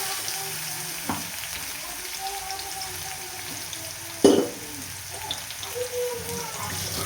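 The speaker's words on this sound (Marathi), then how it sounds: "तेल आपलं गरम झाले, सो आपण तेलामध्ये मिरची आणि लसणाची पेस्ट आहे ते टाकून घेतो" Green chili and garlic paste fries in hot oil for a spicy fenugreek and moong dal dish, giving a steady close sizzle with one sharp clatter partway through.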